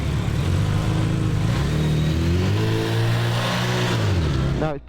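A Bimota Tesi H2 motorcycle with a 230-horsepower engine accelerates on a slightly damp track, its loud, close engine roar climbing steadily in pitch through the gears and holding strong before cutting off abruptly at the end.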